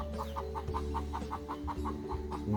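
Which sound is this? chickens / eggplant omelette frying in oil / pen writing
chickens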